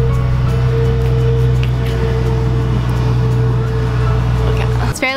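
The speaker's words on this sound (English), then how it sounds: "there's a bus behind me" A bus rumbles behind someone standing on a city street in Montreal, giving a steady low engine drone with a constant hum that holds throughout, loud and close, ending in a brief sharp clatter.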